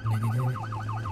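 A police car siren in a GTA video game wails in rapid, regular up-and-down sweeps, loud and close over a steady low engine hum, with no talking.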